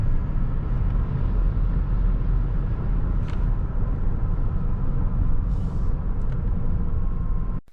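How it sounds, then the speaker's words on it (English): Lucid electric sedan pulling onto a highway under hard acceleration, heard as a steady, loud road and tire rumble with wind noise throughout, no motor whine standing out, fading at the very end. "Merging into the highway and accelerating is a breeze given the enormous power and torque this car has."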